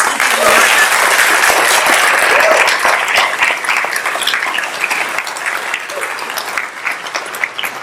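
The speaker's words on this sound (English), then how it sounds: "A round of applause for them." An audience at a high school senior scholarship and awards ceremony claps steadily, a dense wash of applause that holds loud for a few seconds, then gradually thins and softens.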